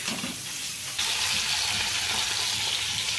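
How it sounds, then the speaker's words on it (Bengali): Potatoes sautéing in a pan give a steady, close sizzle with a broadband hiss that brightens and grows a little louder partway through. No one speaks. "দেখো এই সাইডেও আমি আলুটা ভালো করে কষিয়ে নিতে বসিয়ে দিয়েছি"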